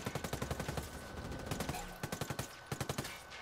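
Rapid bursts of automatic gunfire from a Ghost Recon Wildlands firefight, with quick rattling volleys at the start and again near the end and heavy sustained shooting in between, close and loud.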